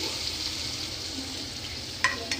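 A paste of ground ridge gourd peel sautés in hot oil in a kadai, giving a steady close sizzle and stirring with two faint utensil taps near the end.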